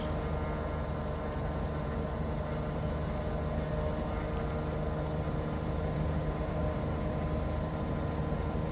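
An aircraft begins its takeoff roll in Microsoft Flight Simulator 2024, a constant dense engine drone holding steady and loud throughout, with no voices.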